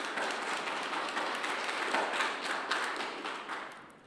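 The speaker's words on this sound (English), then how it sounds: "If I could please ask the gallery not to applaud every presentation" Gallery members at a council planning committee meeting applaud, a dense patter of clapping from many hands that holds steady for a few seconds and then fades, heard at a moderate distance.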